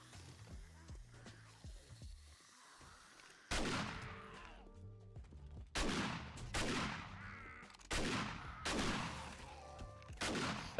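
Gunshots in 7 Days to Die: after a quiet stretch, four or five loud, sharp reports ring out at irregular intervals, each with a decaying echo tail.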